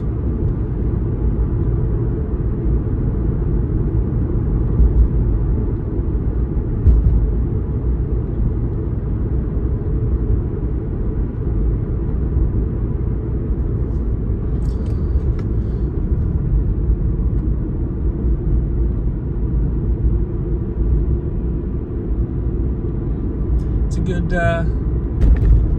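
A Toyota Supra GT cruiser on the road, its engine giving a steady low drone and rumble from inside the cabin, smooth and continuous with only slight swells in level.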